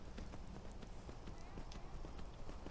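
A horse gallops in Skyrim Remastered, rapid clip-clop hoofbeats running in a quick, even rhythm, soft and low in the mix.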